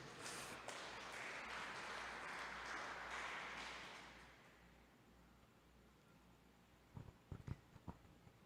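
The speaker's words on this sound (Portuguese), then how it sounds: "Vamos aplaudir ao Senhor por isso" A church congregation applauding during a Portuguese-language sermon, a steady wash of clapping for about four seconds that then fades, followed by a few isolated sharp knocks.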